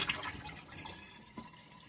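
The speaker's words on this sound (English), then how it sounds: "Now, just gonna rinse your meat off." Running water washes over oxtail meat in a sink, a brief soft splashing rinse at moderate distance with no voices.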